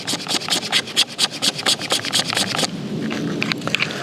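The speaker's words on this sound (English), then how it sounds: "This is the Skrama, and it scrapes pretty decent." The spine of a Varusteleka Skrama blade scrapes fatwood in a quick run of rasping strokes, then shifts into a softer continuous scrape; crisp and close, with no voices.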